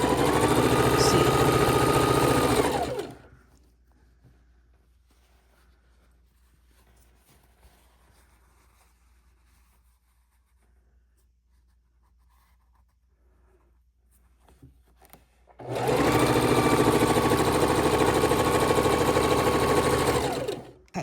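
A sewing machine stitching a quarter-inch quilt seam runs loud and steady in two bursts, nearly three seconds at the start and about five seconds at the end, with near silence between them.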